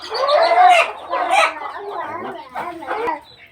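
A broody hen set on eggs gives a run of close, repeated clucks and short throaty calls, with other chickens chattering nearby across the whole stretch.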